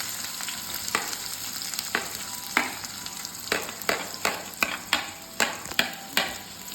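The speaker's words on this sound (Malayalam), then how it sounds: "ആദ്യം നമുക്ക് സവാള ഇടാം." Sliced onion fries in hot oil for a prawn curry, a steady close sizzle broken by rhythmic scraping strokes of a spoon that grow sharper and more regular toward the end.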